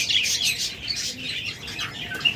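An albino pair of caged pet birds gives a stream of quick, high chirps and tweets, close and moderately loud, over soft rustling with no one speaking.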